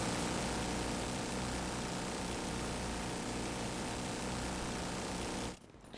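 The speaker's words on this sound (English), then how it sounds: "There is a helicopter." A helicopter in the video game The Division 2 passes overhead, a loud, steady rotor and engine drone filling the space for several seconds before cutting off abruptly near the end.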